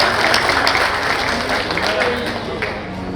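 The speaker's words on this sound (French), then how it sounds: "Les applaudissements, s'il vous plaît." Audience applause at a real estate developers' trade fair ceremony in Bejaia, a steady wash of clapping lasting a few seconds with a faint voice and crowd murmur underneath.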